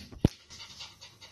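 A dog pants softly in a bathtub during a bath, with one brief louder huff near the start followed by quiet, breathy panting.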